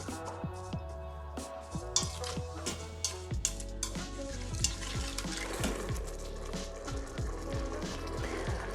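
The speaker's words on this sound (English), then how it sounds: "The recipe says to keep stirring and mashing for 3 to 5 minutes or until it starts to thicken" Cheesecake mixture being stirred and mashed in a pressure cooker pot, a steady run of soft wet squishing and scraping strokes with occasional clinks, close and moderately quiet, with no talking.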